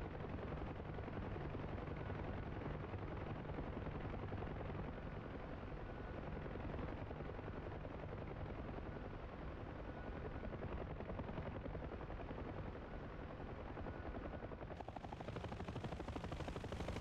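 Steady, loud rotor and engine drone of a Huey helicopter in DCS, a continuous thrumming wash that fills the whole stretch without a break and drowns out other sounds.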